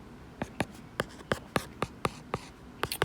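Marker or pen strokes writing out a math problem on a geometric series, a quick run of about a dozen sharp, close scratching taps in an irregular rhythm over a faint background hum.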